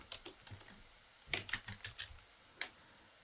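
Keys tapped on a computer keyboard, a few scattered clicks and then a quick burst of typing, close and fairly quiet, with no voices.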